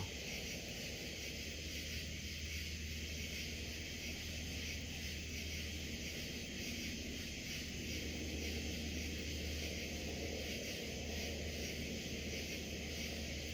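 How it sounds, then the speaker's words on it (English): A low, steady helicopter drone hangs in the distance, faint and continuous, under a constant high buzz of insects, heard from a campsite at Land Between The Lakes. "Is that a helicopter?"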